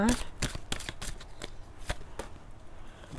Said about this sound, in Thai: ขอดูไพ่โรแมนต์แองเจิลหน่อยนะคะ